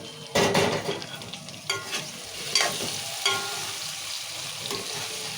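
Thinly sliced brinjal pieces stir-fried in oil in a pan, a steady close sizzle broken by a few sharper scrapes and clatters of stirring, with no one talking.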